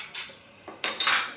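A metal spoon adds salt to a bowl of gazpacho, giving a few quick, bright scrapes and clinks against the dish, close by and with no talk.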